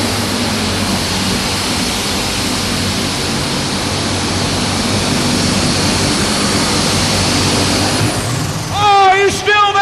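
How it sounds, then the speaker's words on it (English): A heavy Caterpillar 3205 diesel engine in a 9500 Super Stock pulling tractor roars loud and steady for several seconds at a 1997 tractor pull, then a voice cuts in over it near the end. "Big old 3205 cat motor. Here he comes, Jordan Lustig."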